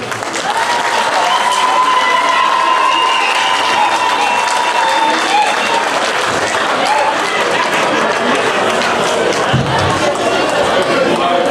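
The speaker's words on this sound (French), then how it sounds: "Est-ce qu'on peut applaudir pour elle, s'il vous plaît?" Sustained applause and cheering fill a hall at a Miss Centrafrique Canada pageant gala in Montréal, a dense, loud, steady wash of clapping from a large audience with scattered shouts.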